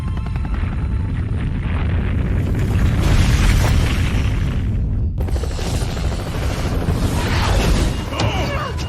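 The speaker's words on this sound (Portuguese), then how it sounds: "Sempre tem uma explosão, né?" A heavy booming explosion in Resident Evil 3 rumbles loudly with deep low-end roar, a brief cut, then continued blast debris and crackling noise.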